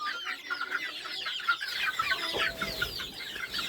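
Young chicks chirp in a busy, overlapping chorus of high peeping calls, close by and continuous, with some farmyard clucking mixed in and no talk.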